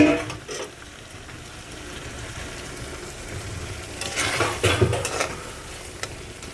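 Tomatoes sizzling and frying in a cooking pan, a soft continuous hiss with a few scraping stirs and utensil clinks building louder near the end.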